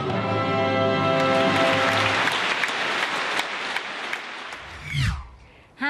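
A concert audience, with deaf and hard-of-hearing children seated among them, applauds as the music ends, sustained clapping after a held note, fading toward the end.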